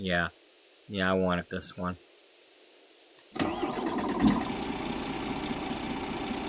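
Truck engine in American Truck Simulator / Euro Truck Simulator 2 starting up after someone speaks briefly, then settling into a steady, loud idle rumble.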